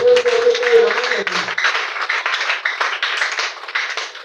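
A congregation at a church service applauds and claps, dense and sustained throughout, with a brief voice at the start fading under the clapping.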